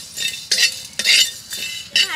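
Whole spices are dry-roasted in a dry karai while a metal spoon scrapes and stirs them, giving four or five loud, close, rhythmic rasping strokes with no talking.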